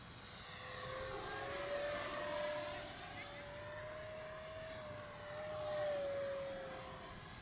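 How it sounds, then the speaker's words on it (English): A small Arrows RC Viper 50mm electric ducted fan jet flies low and slow over a small field, its steady whining fan tone drifting slightly in pitch as it passes at moderate distance, with faint voices in the background. "Nice little small field jet."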